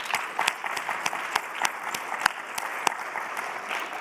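Steady applause from an audience at a recorded gathering, with sharp individual claps standing out above the continuous patter. Moderately loud and sustained throughout.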